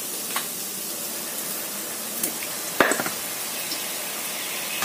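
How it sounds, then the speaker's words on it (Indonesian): Shallots and garlic sizzle and crackle steadily in a hot pan, with occasional sharper pops and a scrape or two of stirring. "ini kita goreng sampai bawang merahnya itu agak kecoklatannya"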